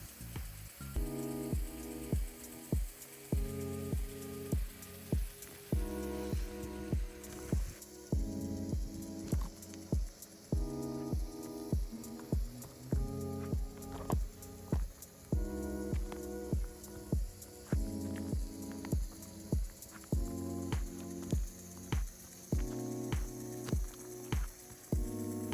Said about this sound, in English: I just turned on the sprinklers to kind of water the grass a little bit